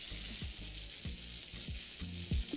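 Mustard seeds, green chillies and curry leaves sputter and sizzle in hot oil, a steady frying hiss with several low rhythmic knocks, probably a spoon stirring against the pan.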